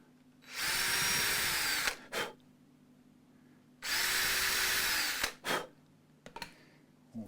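Power drill used during an Epiphone Les Paul guitar repair: two sustained whirring bursts of about a second and a half each, separated by a pause, with short clicks and brief spurts after each run.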